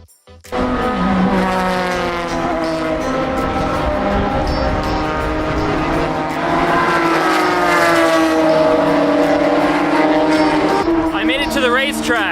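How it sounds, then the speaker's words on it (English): Loud modified Porsche race cars at Watkins Glen International during a Porsche club track day, engines roaring and climbing through gears with tire squeal, close and sustained, while a voice speaks over them. "Modified Porsches are really loud."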